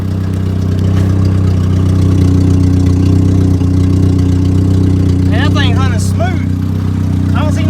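Toyota Wolverine engine idling steadily and smoothly nearby, a constant low hum running throughout, with brief bird-like chirps or squeaks near the end.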